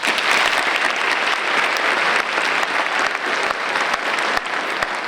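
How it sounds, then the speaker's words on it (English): An audience gives a sustained round of applause at an MLK Day event, with dense, steady clapping of a large crowd filling the whole stretch at even loudness. "Let's give them a round of applause."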